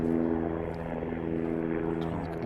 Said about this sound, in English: And I just see a helicopter.